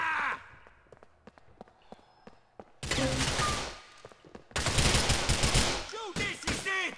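Gunfire in GTA 4 from a newly picked-up better gun: scattered single shots give way to two long, loud automatic bursts, with brief gaps and footsteps between them and no clear speech.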